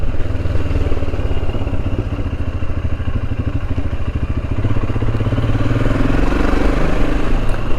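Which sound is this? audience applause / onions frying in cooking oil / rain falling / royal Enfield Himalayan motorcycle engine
royal Enfield Himalayan motorcycle engine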